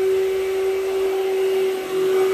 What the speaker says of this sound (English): He's using the clear track, Amway or Workhorse vacuum that will trap a lot of pet hair.